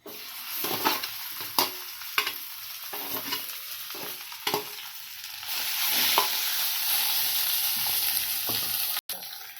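Mashed potato stirred and sautéed in ghee with raisins in a pan, with a steady soft sizzle under repeated spoon scrapes and clatters, louder frying hiss in the second half.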